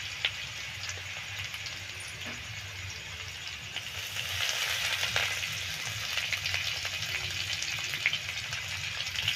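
Crushed garlic and chopped ginger frying together in oil in a pan for chicken mushroom soup: a steady, close sizzle that swells a little louder partway through, with faint clinks of stirring.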